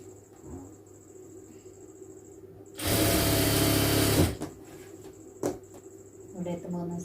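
A sewing machine runs in one loud, steady burst of about a second and a half, stitching the side seam of a lined churidar. Lighter clicks and handling follow, and a voice is heard faintly.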